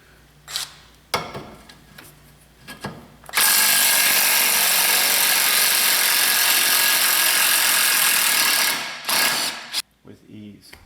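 An Earthquake XT impact wrench loosens a 17 mm bolt on a Honda Pilot's rear shock, hammering in one loud, sustained burst of about six seconds, with scattered handling clicks and knocks before and after.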